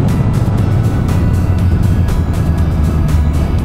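Yamaha XSR900 or MT-09 motorcycle accelerating hard during a test ride, a loud, steady engine roar with heavy wind rush throughout, close to the rider and with no pauses.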